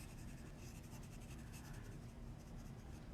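Marker tips rubbing across paper while coloring a stamped image for a handmade card, a soft continuous scratchy stroking with no talk.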